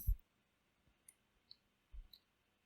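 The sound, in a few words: computer mouse double-clicking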